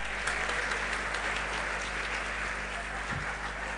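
Audience applause during an Islamic religious lecture at a police headquarters, a steady wash of claps at moderate level without clear breaks, with a low hum underneath.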